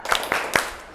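Hands clap three times in a classroom, crisp and evenly spaced less than a quarter second apart, with faint voices in the background.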